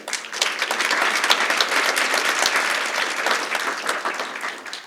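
Audience at a children's literature session of a literary festival in Lahore breaks into loud, steady applause, dense clapping sustained for several seconds without talk.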